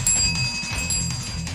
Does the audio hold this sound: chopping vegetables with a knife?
no